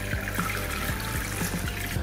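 Water pours steadily into a Thermomix bowl, a continuous splashing stream heard close and alone without talk.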